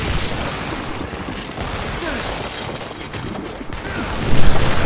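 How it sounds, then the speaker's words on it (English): A thundering explosion in the open-world superhero game inFAMOUS Second Son, a dense roar with crashing, shattering debris that swells loud near the end, with no talk over it. "That was an explosion."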